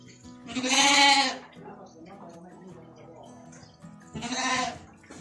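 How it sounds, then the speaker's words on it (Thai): Sheep bleating on a farm in Romania, two loud drawn-out bleats separated by a quieter stretch with faint background murmur. "ดูแกะค่ะ"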